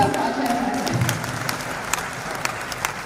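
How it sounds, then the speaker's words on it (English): Audience applause for a chairman at a university summer school event, a broad steady clapping wash with scattered sharper claps, continuing evenly for a few seconds at moderate loudness. "Please clap for our chairman."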